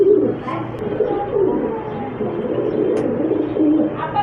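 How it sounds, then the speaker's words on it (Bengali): King pigeons coo softly and repeatedly, low rolling calls overlapping one another at close range, with a faint background hum and no talking. "এটি হচ্ছে কিং কবুতর"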